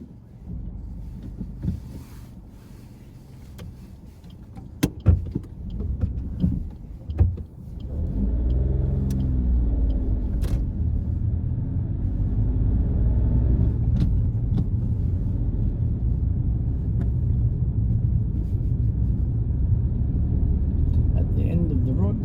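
During a UK driving test, a car pulls away: after a few clicks and bumps, a low engine rumble rises and holds steady as the vehicle drives on, with the interior quiet apart from brief voices early.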